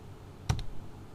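A computer keyboard being typed on, heard as a quick pair of faint key clicks in an otherwise quiet room.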